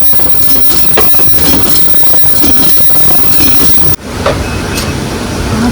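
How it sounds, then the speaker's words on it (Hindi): A loop handle paper bag making machine runs in a factory, giving a loud, steady mechanical rumble and clatter that keeps going throughout, with a brief shift in tone partway through. "ये लूप हैंडल मशीन है।"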